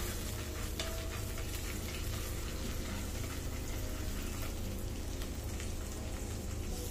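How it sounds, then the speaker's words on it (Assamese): Onion, chickpeas and nigella seeds fry in a pan, a dense, steady crackling hiss like rain that runs evenly and alone throughout. "এয়া মই বুটে পিঁয়াজে ভাজি ল'লোঁ"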